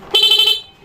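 A short, loud motorcycle horn fitted with an interrupter relay gives one bright, buzzy honk lasting about half a second before it cuts off.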